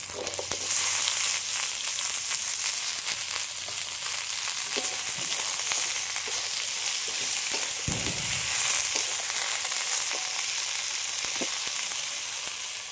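Spinach greens and potato hit onions already frying in a pan, giving a loud, continuous close sizzle and hiss with an occasional stirring scrape, lasting without talk.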